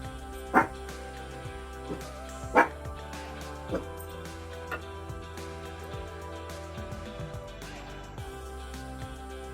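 A pet dog barks indoors during home sewing work, a few sharp yips standing out over a steady background hum, the loudest two near the start, with lighter sounds following.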